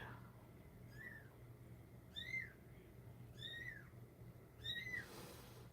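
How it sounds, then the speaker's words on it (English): Four thin, high-pitched kitten mews, spaced a second or so apart, over a steady low background hum. "Can you hear the kittens?"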